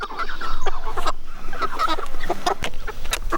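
Chickens cluck and squawk nearby on a North Idaho homestead in quick, irregular bursts, several birds overlapping amid scratchy farmyard noise.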